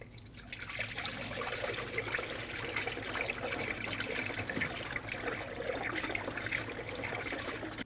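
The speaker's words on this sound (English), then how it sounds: "fill up your coolant system to the manufacturer's specification" Coolant is poured into the cooling system of a 2012-2021 Nissan NV2500 with a 5.6L V8, a steady close trickle and gurgle of liquid running continuously with no talk.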